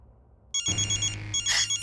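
A phone ringtone sounds close and loud after a short quiet start, with a repeating bright electronic melody pulsing in even bursts.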